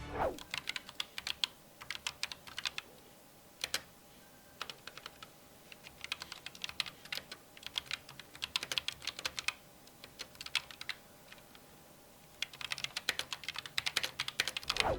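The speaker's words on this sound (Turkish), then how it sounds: "Hadi gelin bir switchlerin sesini dinleyelim." Typing on an Asus ROG Strix Scope RX gaming keyboard with red switches, sharp clacky keystrokes in fast uneven bursts separated by short pauses, close and clear with nothing else heard.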